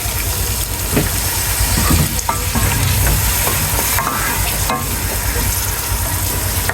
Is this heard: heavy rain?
no